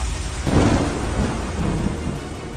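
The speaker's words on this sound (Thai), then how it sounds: "เสียงสายฝน" Steady rain hisses down while a deep, rumbling roll of thunder swells and fades.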